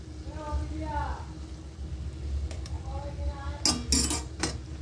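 A spoon clinks and scrapes against a pan while tomato ketchup is stirred into butter paneer gravy, with a few sharp metallic taps near the end over a low steady hum and a voice speaking.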